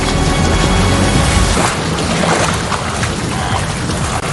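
Loud, continuous river water churns and splashes where a crocodile hunts wildebeest at a crossing, a dense, rushing wash of waves and surges that fills the whole stretch.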